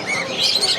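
Small caged birds such as budgerigars at a busy bird market in Mirpur, Dhaka, a brief burst of bright overlapping chirps and tweets, close and fairly loud, with no talking.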